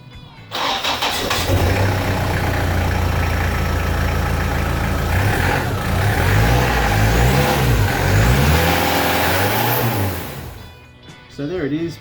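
A Toyota Prado 120 diesel engine, just after a fuel filter replacement, cranks and catches, then runs loud and close with a clattering idle and a few gentle rises in engine speed before cutting off near the end.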